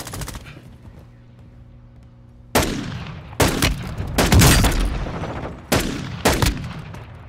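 Video game gunfire arrives in several loud, close bursts after a quiet opening. Rapid automatic volleys come one after another, and each burst rings out with a reverberant tail.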